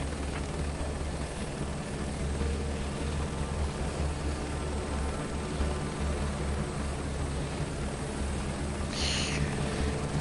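A helicopter in Microsoft Flight Simulator 2024 drones steadily and loudly, with a constant rotor-and-engine roar that carries unbroken for ten seconds.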